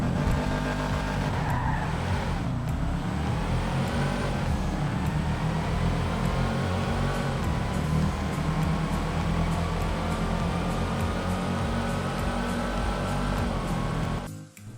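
A Sultan RS car fitted with a race transmission races in GTA 5, its engine roaring loud and steady with rising pitch through gear changes and faint tire noise, continuous for the whole stretch before cutting off at the end.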